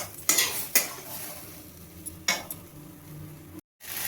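Spices with mustard frying in a pan under a steady soft sizzle, broken by a few sharp clinks and scrapes of a spoon stirring, close up and without any talk.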